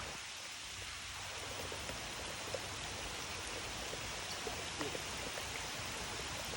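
Steady rain falling, a dense, even hiss of drops that continues without a break and without any voices.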